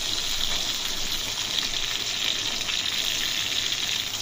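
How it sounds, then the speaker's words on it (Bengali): Fish fries in oil under a lid on a stove, giving a steady, even crackling hiss with no pauses, close and moderately loud. "জ্বালিয়ে দেওয়ার পরে মাছের একটা পাশ ভাজা হয়ে গেলে দ্বিতীয় পাশটাও"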